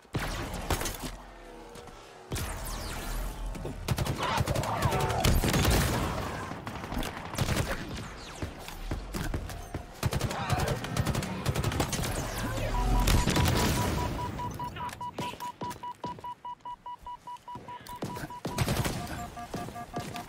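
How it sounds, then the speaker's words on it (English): Gunfire from the Halo Infinite video game: dense, sustained bursts of automatic fire and repeated shots mixed with impacts and booms, loud and nearly continuous, then easing toward the end. "Who else is shooting me?"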